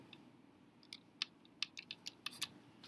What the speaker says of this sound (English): Typing the square root of 20 into our calculator